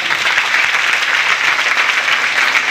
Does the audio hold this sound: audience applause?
yes